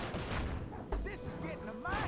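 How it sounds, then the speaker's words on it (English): Fireworks bursting during gameplay in Sly 4: Thieves in Time, a cluster of sharp pops and booms mixed with bright game effects and brief vocal sounds. "There's fireworks"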